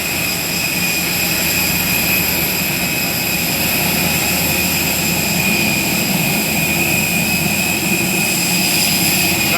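A jet airplane engine roars continuously and loudly at Halim airport, a dense steady drone with a high whine held over the whole span.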